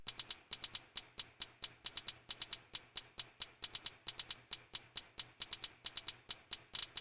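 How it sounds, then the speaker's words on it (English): A crisp FL Studio hi-hat from a beat ticks in a quick, steady pattern with occasional doubled hits, bright and dry, playing alone without other drums. "And here's the hi-hat that's on that song."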